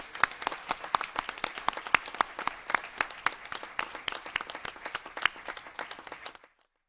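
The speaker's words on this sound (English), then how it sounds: "Jessica, Noel, Mia, Taylor, and Jack, so we can all applaud you for this debut." Applause from the audience at a Poway school board meeting, with steady, distinct individual claps from a modest group. It carries on for about six seconds, then stops abruptly.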